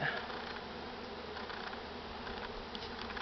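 Honeybees hum steadily and closely inside an opened nucleus hive holding brood frames, a dense continuous buzz with no talk.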